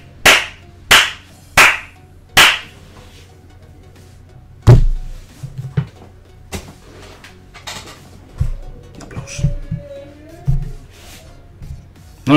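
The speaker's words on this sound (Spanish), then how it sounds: "Un aplauso para el Football Manager." Four sharp, evenly spaced hand claps ring out alone at the start during a Football Manager Mobile 2018 session, followed by scattered thumps and knocks with brief murmuring.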